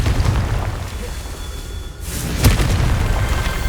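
Bombarda and Confringo spells going off in Hogwarts Legacy, loud booming blasts over a dense rumbling game soundscape, with a sharp crack near the end.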